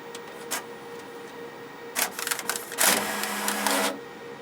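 An office printer running in a school setting, giving a few short mechanical bursts early on and then a denser stretch of whirring and feeding clatter, fairly close and with no talk over it.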